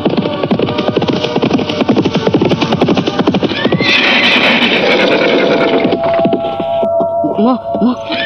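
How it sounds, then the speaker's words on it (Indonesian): Horses neigh and whinny loudly amid a rapid clip-clop of hooves in a staged audio-drama scene of riders slowing their horses near a forest hut, a long shrill whinny rising over the galloping rhythm before it eases. "Mereka semakin memperlambat derap kuda mereka."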